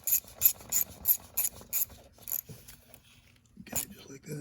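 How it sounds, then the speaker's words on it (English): A 1/4-inch drive ratchet tightens small bolts on an Infiniti mass airflow sensor, giving a series of sharp rasping clicks in short bursts, near and distinct, then a quiet gap and a few softer handling noises. "I'm using a little 1/4-inch drive."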